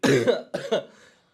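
A man coughs: one harsh, heavy cough followed by two shorter, weaker ones, close to the microphone in a quiet room.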